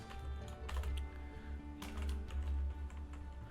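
Code being typed on a computer keyboard, a steady run of quick, close clicky keystrokes in bursts with brief pauses, no talking.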